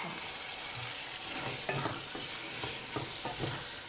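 Chicken keema being stirred in a hot pan, a soft continuous sizzle with several scraping strokes of the spoon around the middle and end, close and clear.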